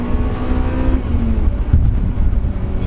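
A Championship White Honda Civic Type R engine drones at high rpm near the limiter under load, with a brief dip as a gear change comes through, loud and continuous without speech.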